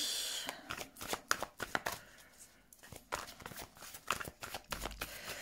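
Tarot cards being cut and shuffled by hand, a run of quick papery riffles and slaps close up, clustered in bursts with short pauses between.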